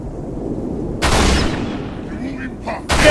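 Gunfire from the video game Halo Reach erupts in loud bursts, a sharp volley followed by a fading tail and another burst, heard alone and close.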